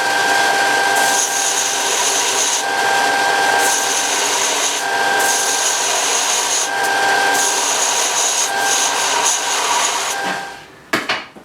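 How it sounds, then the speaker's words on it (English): A tool grinds steadily against a steel bolt head to round it off, a continuous harsh rasp broken by short pauses, close and loud, ending with a few clanks. "grind this bolt down a bit so it isn't as nice as that"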